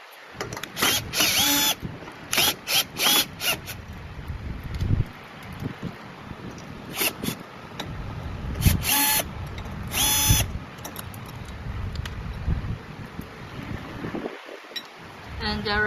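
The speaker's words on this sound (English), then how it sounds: "Here we need to unscrew these 4 screws." A power drill whirs in short, repeated bursts while backing out four screws from a black bag holder, loud and close with brief pauses between runs and a noisy background.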